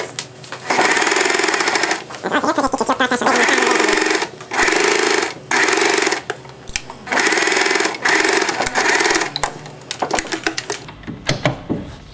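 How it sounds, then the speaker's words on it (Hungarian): A sewing machine stitches a pillowcase in loud bursts of rapid mechanical whirring, broken by short pauses, including a brief reverse back-stitch pass made with the lever to lock the thread end. "mindig a visszavarró karral hátra menetbe megyünk, hogy ezzel lebiztosítsuk a cérna végét"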